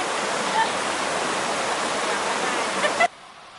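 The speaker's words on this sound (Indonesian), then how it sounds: "di belakang kita ada panorama yang indah dengan sungai yang mengalir tenang." A calmly flowing river at Janda Baik, a steady broadband rush of water that holds evenly and then cuts off abruptly near the end, with no talk over it.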